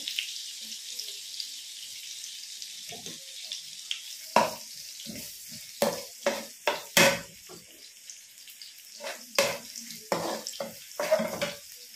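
Chopped onion added to a hot pan for a vegetarian pasta: a soft, steady sizzle punctuated by intermittent scraping and clinking of a utensil against the pan, close and fairly quiet.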